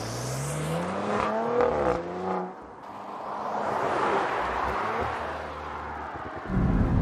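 An Audi RS5 engine accelerates and changes gear, its pitch rising and dropping, followed by a steady whooshing road noise as it cruises at 90 km/h on a forest road.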